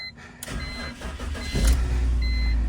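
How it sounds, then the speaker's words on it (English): BMW E46 325i with 332,000 miles and a weak battery cranks briefly with a few clicks and chimes, then fires and settles into a loud, close idle. "The battery I have in it is a little weak, but she'll start."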